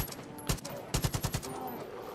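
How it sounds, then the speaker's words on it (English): Assault rifle fire at a bear in Far Cry 5: a single loud shot, then a rapid burst of about five close shots over a steady game ambience. "How many shots do you think it takes to kill a bear with an assault rifle?"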